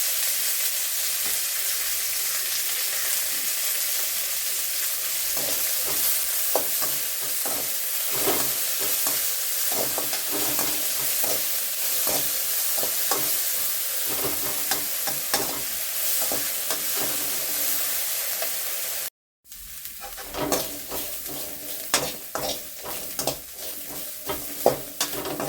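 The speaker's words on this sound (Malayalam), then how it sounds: "ഒന്ന് നന്നായി മൊരിയണത് വരെ വറുത്തെടുക്കാം" Dried shrimp fry in a little oil in a pan, giving a steady, close sizzle with crackling pops and occasional stirring scrapes. The sound runs unbroken for the whole stretch apart from one very brief gap.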